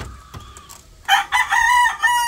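Rhode Island Red chickens nearby: soft low sounds at first, then loud, close crowing and clucking that fill the second half, with no talking.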